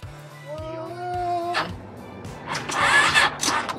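A Harley-Davidson Sportster motorcycle engine that needs its choke is being started: a steady tonal whine comes first, then a loud, rough burst of cranking and sputtering near the end, with no clear catch.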